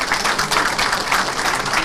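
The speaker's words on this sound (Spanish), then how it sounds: "para quien solicitamos un fuerte voto de aplauso" Brief, steady applause from an audience at a lecture on Peru's new criminal procedure code, a dense patter of clapping hands throughout with no talking.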